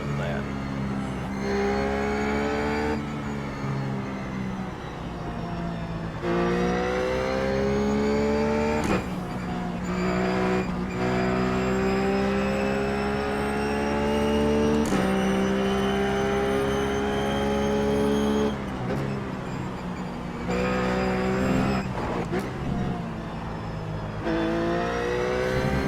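Ruf GT3 race car engine lapping Suzuka in iRacing, a loud continuous high-pitched drone that climbs through the gears, with repeated shifts and a drop in pitch under braking, while someone talks over it.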